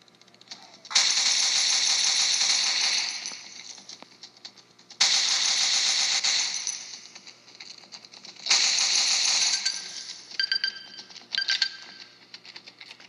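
Alien gun firing in the Pixelgun 3D video game: three long rapid bursts of buzzing, rattling shots, each a few seconds long, separated by short pauses, then a few brief stuttering shots near the end.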